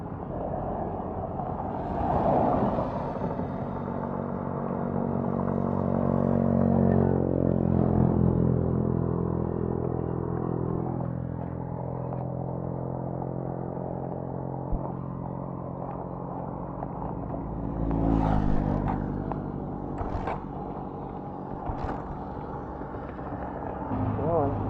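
A Suzuki vehicle's engine runs during a camping trip in Pangasinan, a steady low rumbling drone with a few clanks, heard close and continuous while people talk nearby.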